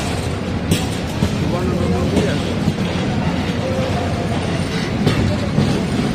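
Kalni Express intercity train pulling into Kamalapur station, a steady loud rumble of railcars with clattering wheel noise and occasional sharp squeals, people talking over it.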